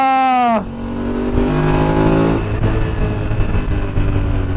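A BMW GS motorcycle engine drones steadily while riding along a foggy road in Switzerland, opening with a high whine that drops sharply as the rider shifts, then settling into a continuous close rumble with no talk.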